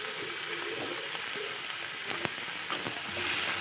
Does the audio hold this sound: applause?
no